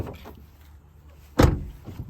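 A car door opens on a 2012 BMW 135i E88 with the battery disconnected: one sharp, fairly loud latch clunk and thump near the middle, after quiet rustling and room noise.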